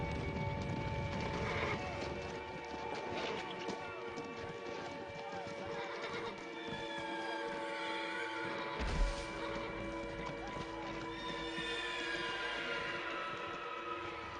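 Horses whinny and neigh amid a steady clatter of hooves during early First World War troop mobilisation, a dense, continuous herd sound with overlapping calls and a brief thump near the middle.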